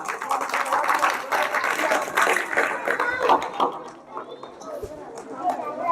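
An audience applauds student performers at a coaching centre's annual function and farewell event, a dense, sustained crowd clapping that thins out toward the end, with someone speaking over it.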